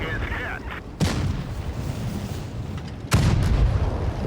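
Two heavy tank cannon shots in World of Tanks Blitz gameplay land about two seconds apart. Each is a sharp, loud boom that decays into rumble over a continuous background of engine and battle noise.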